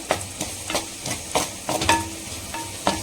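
Mustard and cumin seeds frying in a hot pan give off sharp, irregular pops and crackles over a low, steady sizzle, with several louder bursts spread across the few seconds.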